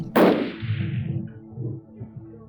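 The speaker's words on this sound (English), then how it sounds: "I finally get a chance to take a shot, and that did not go well." A single rifle shot fired at an antelope buck while hunting: one sharp, loud crack outdoors, followed by a rolling echo and low rumble that fades over the next two seconds.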